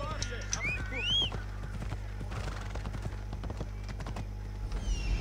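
A horse's hooves clip-clop along a road in Assassin's Creed Odyssey, steady close footfalls mixed with whinnies and bird-like whistles over a low hum, alone without talk.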